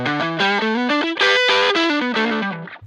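A distorted electric guitar played through a Mulan Distortion pedal plays a sustained melodic line, thick and saturated with gain like a 50-watt Marshall, loud and close, no voices.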